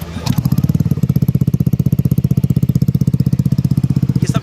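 A Yamaha Aerox 155 scooter with a modified free-flow exhaust idles loudly and close, throbbing in a fast, even pulse with a deep bassy tone after starting up.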